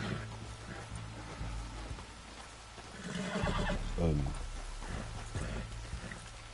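A horse whinnying in Red Dead Redemption 2, a rising and falling neigh in the middle of the stretch, with someone talking over game ambience and low background sound.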